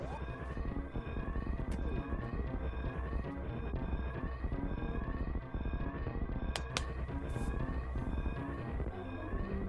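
Siren noises from the Super Metroid rom hack Metroid Mission Rescue ring out over a dense, constant layer of game music and effects, the repeating wail loud but partly blended into the busy soundtrack with occasional sharp blips.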